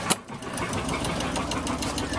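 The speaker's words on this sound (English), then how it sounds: "You can hear the engine in the background." Inboard engine idling aboard an Island Packet 27 sailboat, a steady rapid mechanical chatter with fast even ticking and low hum, heard from nearby below deck without a break.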